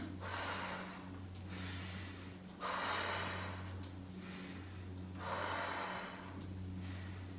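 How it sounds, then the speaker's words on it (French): Steady breathing during an exercise session, slow deep inhales and long exhales repeating in a loose rhythm, fairly quiet and close, over a low hum with no speech. "J'inspire sur une, je souffle."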